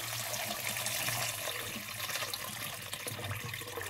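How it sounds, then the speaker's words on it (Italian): Water pours into a bowl of chestnuts to soak them before roasting, a steady close rushing and splashing flow that goes on without pause. "Versiamo un bel po' d'acqua"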